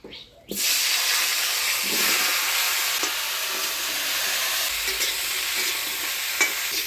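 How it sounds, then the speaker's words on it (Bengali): Potatoes and cauliflower frying in hot oil give a loud, dense, continuous hiss that starts abruptly and holds steady, with occasional faint stirring clicks close by. "আলু ফুলকপিগুলো ভেজে নিব।"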